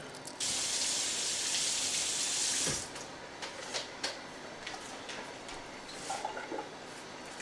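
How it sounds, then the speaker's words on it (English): Leeks are washed under a running kitchen tap, a loud steady rush of water for a few seconds, then the flow stops and light drips, splashes and handling noises follow at the sink. "So you got to wash the leeks out real good, okay?"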